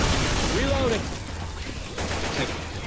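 Auto shotgun fire in Left 4 Dead 2, a few sharp blasts set within a dense, busy game mix of gunfire and noise, with a voice speaking briefly over it.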